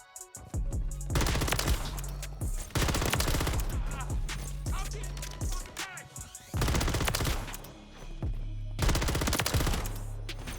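A RAM 9 gun fires in Modern Warfare 3, loud rapid automatic bursts of gunfire in several long volleys separated by short pauses.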